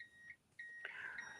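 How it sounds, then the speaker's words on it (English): A small household device beeps repeatedly after a power outage, giving several thin, high electronic tones in a steady pattern, quiet against a faint background hum. "this thing is beeping crazy"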